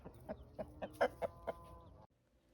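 A backyard rooster clucks close by in a steady run of about eight short, throaty calls, rising in the middle and then cutting off into quiet, with no talking over it.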